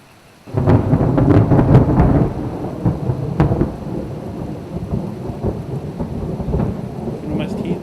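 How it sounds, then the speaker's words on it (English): Rain falling in a forest with rolling thunder, a loud crack and rumble near the start followed by a steady downpour with scattered heavy drops and lingering low rumbles. "The rain continues into the next day."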